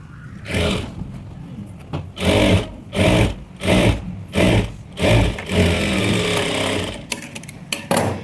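A sewing machine stitches bridal blouse fabric, running in a string of short, loud, rapid bursts with brief gaps between them, then a longer continuous run before stopping.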